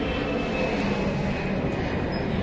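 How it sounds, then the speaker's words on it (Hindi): An airplane flies overhead in rainy weather above a market road, producing a loud, steady engine drone that holds without a break. "जहाज भी उड़ रहा है हवा में,"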